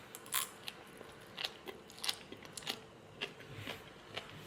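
Crisp crunches from chewing raw carrots repeat every half second or so, close up and fairly quiet, with no talking.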